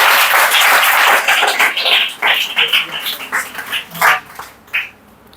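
A class of students clapping together during an accent training lesson in Lahore, a dense burst of claps that breaks into separate rhythmic bursts and then thins out toward the end.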